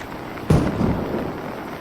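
A single sharp gunshot in the tactical shooter Ready or Not, a sudden burst at mid-clip that decays into a brief rumbling tail, moderately loud against a quiet background.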